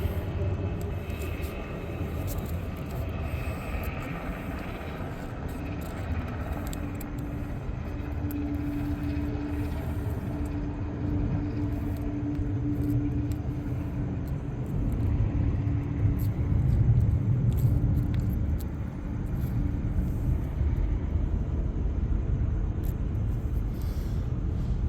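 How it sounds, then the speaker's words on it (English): A helicopter passes overhead outdoors, giving a continuous low rumbling drone that swells slightly toward the middle and stays steady for the full stretch, with no talking over it. "let's wait for this helicopter to pass."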